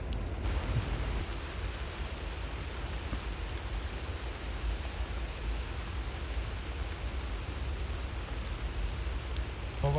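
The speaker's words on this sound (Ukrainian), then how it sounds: "Ховайся, дощ падає." Steady, dense hiss of heavy rain falling continuously, uniform and enveloping, with no voices.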